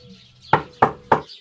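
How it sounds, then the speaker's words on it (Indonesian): Three sharp knocks on a bedroom door, evenly spaced and close, ringing out clearly over a quiet room. "tiba-tiba mendengar pintu kamarnya diketuk."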